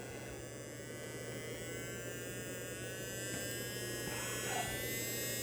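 Small electric fan motor in a model train smoke assembly runs at low speed on 2.4 volts, giving a steady, faint whirring hum with a buzzy edge that holds even throughout.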